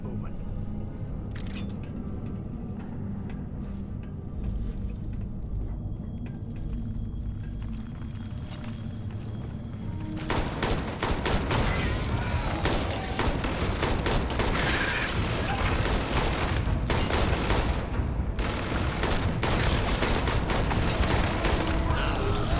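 Gunfire from a big gun in the Starfield video game: sporadic shots and booms at first, then a dense, loud barrage of rapid blasts and impacts that runs continuously to the end, with voices speaking partway through.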